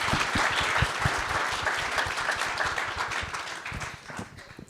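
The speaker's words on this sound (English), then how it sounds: "can you help me by thanking our panellists with a huge round of applause?" A large conference audience at the International Astronautical Congress networking forum applauds its panellists, a full, sustained round of clapping that holds steady and then begins to thin and fade toward the end.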